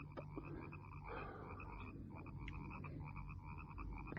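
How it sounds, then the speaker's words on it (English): A dense chorus of frogs croaking in marshes, a radio drama effect with steady overlapping croaks and chirps forming a continuous wall of sound, moderately loud and with no voices. "frogs."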